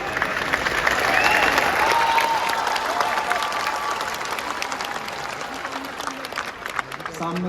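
Audience applause at a Hindi kavi sammelan poetry event in Chhattisgarh, a steady wash of clapping from a crowd that holds for the full stretch, loud at first and slowly thinning, with faint voices mixed into the background.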